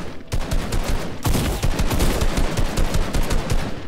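Rapid bursts of gunfire crack out in Fortnite, a dense string of loud, close shots after a short gap near the start, firing almost without pause to the end.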